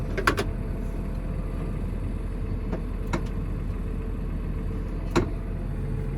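A farm tractor idles with a low, steady engine drone, a few sharp metallic clicks and knocks breaking in briefly.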